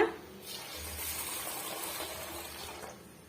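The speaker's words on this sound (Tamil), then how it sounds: "இப்ப தேவையான அளவுக்கு தண்ணி சேர்த்துடலாங்க." Water poured into a bowl to soak the ingredients for Delhi appalam, a steady broadband splashing rush lasting the whole stretch, close and fairly even, with no talk over it.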